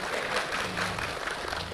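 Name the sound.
congregation applause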